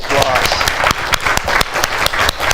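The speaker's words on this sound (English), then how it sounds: "Let's give our brilliant panel a great round of applause." An audience at a summit applauds a panel with brisk, dense clapping throughout this short stretch, with voices mixed in beneath it.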